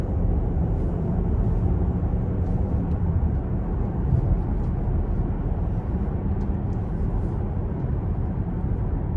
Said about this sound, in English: getting on the interstate to see how it pulls